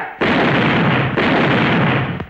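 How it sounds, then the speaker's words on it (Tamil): Firecrackers bursting in a loud, continuous crackling roar that fills the air, briefly dips, then surges again before a final sharp pop, with no voices heard. "அதான் வெடி போட்டுட்டு இருக்கிறேன்"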